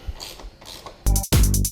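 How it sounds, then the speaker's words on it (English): A ratchet with a 10mm socket tightens the tail tidy bolts on a Yamaha R3 motorcycle, giving two loud close bursts of rapid clicking after a quieter stretch of faint mechanical handling. "and then tightening with your 10mm sockets"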